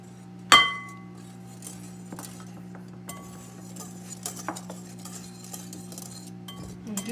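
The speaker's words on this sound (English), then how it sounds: "she's just going to stir that all up" Pancake batter ingredients, including baking soda and sugar, are stirred in a bowl, giving a sharp glassy clink near the start, then light scattered scraping and tapping clinks over a steady low hum.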